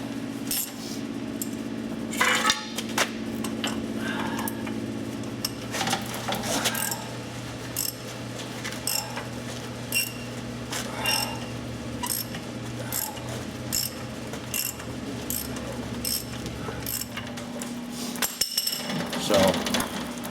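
A 1/2 inch drive ratchet clicking in repeated bursts while loosening hardware on a Ford F350 4WD ball joint, close up, with metallic clinks and tool handling between strokes.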